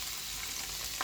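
Sliced small onion and four whole dried red chillies hitting hot oil for dragon chicken, a dense, even close-up sizzle with a brief clatter at the end.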